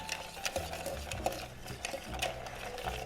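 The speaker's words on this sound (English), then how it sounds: "Add some ice, and we're going to give this a stir down." Ice clinking and scraping as a cachaça cocktail with chocolate bitters is stirred down in a mixing glass, a steady close rattle with soft tinkling, no voices.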